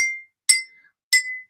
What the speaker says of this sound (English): when you hit the glass, it's causing the sound to be produced through the water